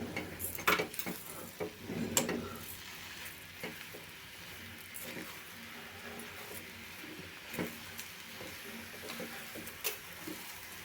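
Sugar being stirred into semolina sheera for Satyanarayan puja prasad in a pan, giving soft scraping and light clinks of the spoon, with a couple of louder knocks early on, under a faint steady sizzle.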